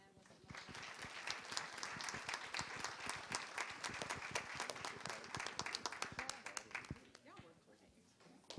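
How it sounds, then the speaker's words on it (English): Conference audience claps for a panel of speakers at a STEM lightning-talks event, a sustained burst of many hands in a hall that swells, holds, then tapers off near the end. "let's join me in giving these panelists a round of applause."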